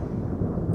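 A thunder sound effect in a Bengali horror audio story, a short, dense low rumble that stays loud and steady through the moment with no voices over it.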